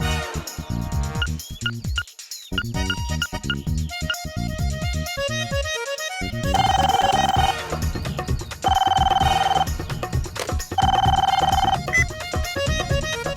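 A telephone rings on the other end after a call is placed, with repeated bursts of ringing tone in an even rhythm over background music and sound effects.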